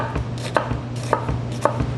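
A kitchen knife slicing down through an onion on a cutting board, four crisp evenly spaced cuts over a low steady hum, close with no speech.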